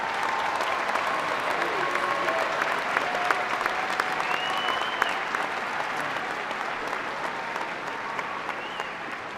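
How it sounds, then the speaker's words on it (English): A large crowd at a university commencement applauds continuously for several seconds, dense clapping filling the room and fading slightly toward the end. "let's give a round of applause for all of the students from this college"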